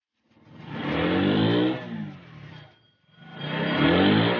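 A motorbike engine in the GTA 5 video game revs up loudly and holds, drops away briefly, then revs hard again, with no talk over it.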